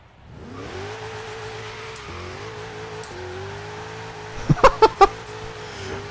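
A jeep with stock tires and a 5.7 liter twin turbo V8 making 400 horsepower, in the racing game Forza Horizon 3, idles steadily and then gives several quick sharp revs near the end.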